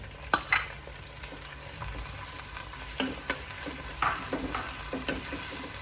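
Onion and tomato sautéing in a pan for a prawn curry: a steady soft sizzle with occasional louder stirring scrapes and clinks, close up, with no talking.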